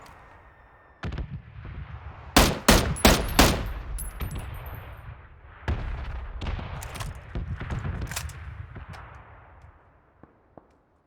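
Gunshots in PUBG, a tight cluster of loud, sharp shots around two to four seconds followed by a looser run of fainter, rattling shots and distant pops, with no talking.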